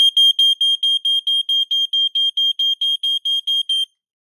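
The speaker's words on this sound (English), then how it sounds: "That's like a very sharp sounding horn." A Fire X smoke alarm, freshly fitted with a battery, blasts a loud, sharp, piercing horn in rapid regular beeps, about sixteen pulses in under four seconds, then cuts off.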